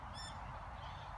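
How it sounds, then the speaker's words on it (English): Ducks calling in an outdoor bird-feeding spot, a brief nasal honking call near the start over a steady low background rumble, faint and short, with no talk. "The ducks having their fun, chasing each other, being jealous"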